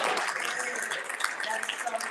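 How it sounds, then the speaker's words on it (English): An audience claps at a Black History celebration, a soft continuous patter of many hands heard at a moderate distance throughout. "I see one person, two person clapping"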